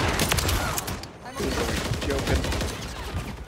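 Rapid, dense gunfire from a first-person shooter video game fills the whole stretch, loud and continuous with overlapping shots, while a player's voice briefly speaks over it.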